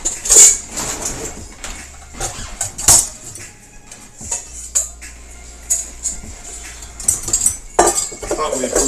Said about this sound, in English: Trying to pull out a bowl.